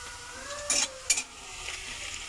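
Chopped onion and green chili frying in oil for a prawn and potato dish, a steady sizzle broken by a couple of louder bursts as the pan is stirred, close and without talk.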